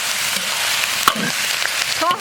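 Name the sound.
stir-frying mushrooms with pork slices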